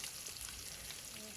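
Mustard seeds, urad dal, chana dal and cumin crackling and sizzling in about three spoons of hot oil in a kadai, a steady faint fry with no talk.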